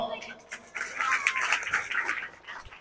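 Audience at a Rohingya cultural fair claps for UNESCO representatives, scattered clapping that builds into a short burst of applause mixed with voices.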